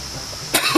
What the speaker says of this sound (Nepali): एक खोकी लायो